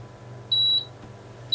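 An Agilent E3646A bench power supply beeps as it powers up into calibration mode: a clear, steady electronic tone lasting about a quarter second, then a brief second beep, over a low hum.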